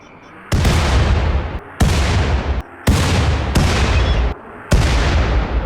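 Gunfire and explosive shells in the colony game RimWorld, heard as four loud, sustained bursts of blasting noise separated by brief gaps, each cutting in abruptly and dominating the scene.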